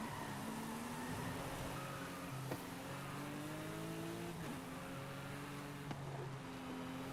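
A car drifts in Forza Horizon 5 on PS5, its engine revving in repeated rising pitch sweeps broken by quick gear changes, sustained but fairly quiet with no talk.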